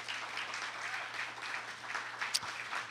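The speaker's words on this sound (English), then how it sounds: "one more round of applause for him, I think, is appropriate" An audience at a talk applauds quietly, with soft, distant-sounding continuous clapping and a low steady hum underneath.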